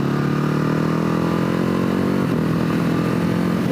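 Steady, loud engine and exhaust rumble from a 2020 Ducati HyperMotard 950 SP motorcycle riding at a constant low pace, a continuous deep drone with a slight shift in tone partway through.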